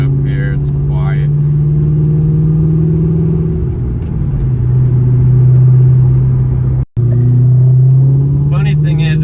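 A Ford SVT Cobra engine drones steadily as the car drives down a quiet side street, its low rumble rising and easing with the throttle and dropping out briefly near the end.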